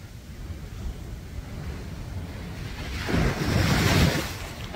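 Ocean waves on a beach at Punta del Diablo, a steady rumbling wash with wind noise on the microphone that swells into a louder breaking surge toward the end, with no talking.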